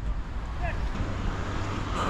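Strong wind buffets the microphone on a seashore, a continuous loud low rumble with ocean surf noise behind it, steady throughout.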